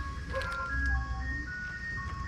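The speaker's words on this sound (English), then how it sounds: "Here's the ice cream truck again." A passing ice cream truck plays its jingle, a faint, tinkling melody of sustained tones heard from a distance over a low rumble of traffic and outdoor background noise.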